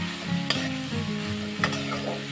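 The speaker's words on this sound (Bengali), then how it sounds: "এরপর সমস্ত কিছু মা খুব ভালো করে নেড়ে নিচ্ছে।" Potatoes and taro sizzling in a pan of oil with onion and chilli, stirred steadily, with two sharp scrapes of the spoon against the pan; close and fairly loud, no voices.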